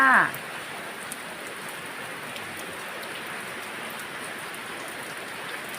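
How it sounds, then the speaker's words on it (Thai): Steady rain patters close by with a soft, even hiss and occasional distinct drips, after a brief voice at the very start. "รายงานฝนตกจ้า"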